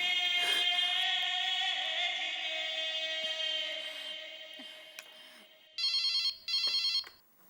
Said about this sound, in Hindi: एक बार टप्पू के पापा को फोन करके पूछती हूँ।